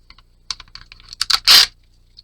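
Tape torn from a roll to fix a strand of yarn into a creative daily journal, heard as a few quick dry rips and crackles ending in one longer, louder tearing rasp, close up and with no talking.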